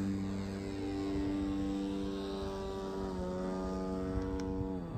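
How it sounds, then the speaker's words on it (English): A gas-powered radio-controlled model airplane climbs at an airfield, its engine a steady, loud buzzing drone throughout, pitch shifting slightly as it goes up. "Got a gasser going up."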